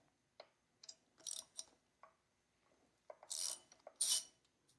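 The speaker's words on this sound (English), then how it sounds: "Now we can remove the four bolts that secure the valve cover." A ratchet clicks in short bursts while loosening the 8 mm valve cover bolts on a Royal Enfield Interceptor 650 motorcycle, quiet close ticking runs separated by pauses.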